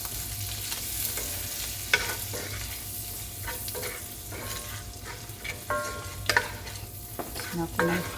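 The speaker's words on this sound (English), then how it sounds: "Melting my butter." Butter melts and sizzles softly in a pan while a utensil stirs and scrapes, giving a quiet steady hiss broken by clinks and scraping taps, close by and without talk.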